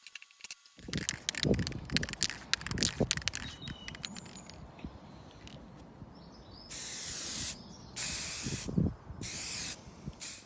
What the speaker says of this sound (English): So spraying was a lot more labour intensive and a lot more difficult than I thought it was going to be.